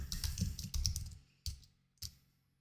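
Computer keyboard typing, a quick burst of clicking keystrokes followed by two separate isolated key presses, close and fairly quiet with no talking.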